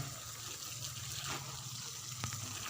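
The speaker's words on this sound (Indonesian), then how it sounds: "Kita terus menyiramnya semua merata semua tanaman harus terkena kita siram semua" Water splashes steadily over chili pepper plants as they are watered, a continuous gushing and pattering wash with a few small knocks, moderately near and even in level throughout.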